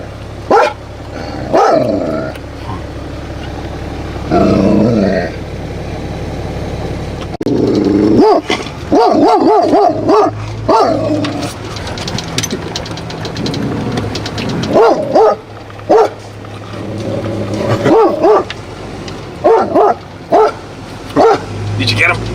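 An excited dog barks loudly in repeated bursts and yips, with some growling, after a car alarm set it off. People talk between and over the barking, close by.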